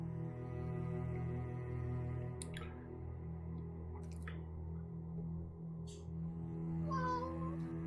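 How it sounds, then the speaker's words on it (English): A house cat meows a few times in a quiet room, short rising cries heard in the second half over a steady low hum. "Kitty!"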